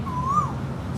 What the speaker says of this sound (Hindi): देखो, कोयल की आवाज़ आई आपको?